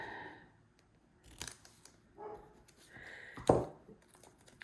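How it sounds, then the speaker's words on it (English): Scissors snip paper on a planner-making desk, a few separate sharp cuts spaced apart and fairly quiet, with light handling noise in between. "let me grab my scissors here"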